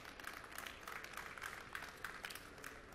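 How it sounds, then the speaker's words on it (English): A conference audience at a CES 2023 media showcase applauds with steady, moderately faint clapping from many hands, spread out and even across the moment. "Please, one more round of applause for Jason."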